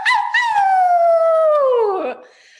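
A woman at a group gathering imitates a wolf with one long, loud howl that slides downward and trails off. The howl is close and heard alone.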